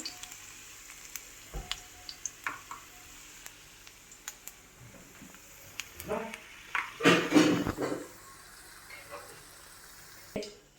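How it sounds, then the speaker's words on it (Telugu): Ginger frying in a pan, with a low sizzle broken by scattered clicks and utensil knocks and a louder burst of stirring and spattering partway through, close by and with no speech. "ఈ అల్లాన్ని ఇలా ఫ్రై చేసుకోవాలి"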